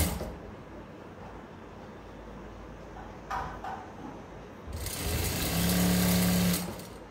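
A sewing machine stitches a homemade cotton bra, starting at the shoulder end, running in a loud steady burst near the end after quieter handling noises.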